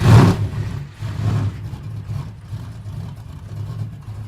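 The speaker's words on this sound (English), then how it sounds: "Can you get in there and start it up, Gord?" A car engine, owned and started up by its owner, revs in a couple of loud bursts near the start, then settles into a steady, rumbling idle close by.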